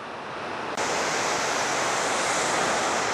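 Roaring mountain stream along a hiking trail near Sixt in the Haute-Savoie valley, a dense, steady rush of water that swells suddenly to full loudness and holds, close and unbroken.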